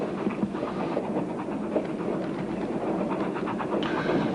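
A passenger train rolls along its rails with a continuous rumbling, rattling drone heard from inside the carriage, steady and moderately loud.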